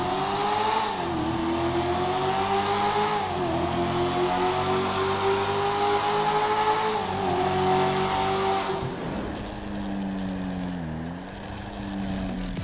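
Invetero Coquette sports car from GTA V, modeled on a Corvette Z06, its engine loud and aggressive, revving in several rising-and-falling sweeps with gear shifts, close and continuous with no talk.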